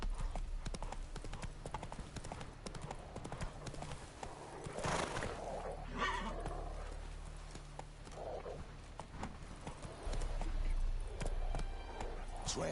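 A horse in The Witcher 3 gallops with rapid, continuous hoof clip-clops at night, whinnying briefly midway, close and steady throughout.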